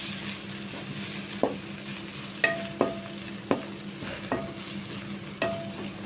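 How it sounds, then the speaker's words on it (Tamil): Mint and coriander stems fry with ginger garlic paste for a prawn gravy, a steady close sizzle punctuated by about seven sharp scraping strokes of a spatula against the pan, spaced roughly a second apart, with no talking. "இஞ்சி பூண்டு பேஸ்ட் சேர்த்ததுக்கப்புறம் இந்த தலையை, புதினா தலையும் கொஞ்சமாக மல்லித்தலையும் சேர்த்து இப்படி வணக்கி பாருங்க"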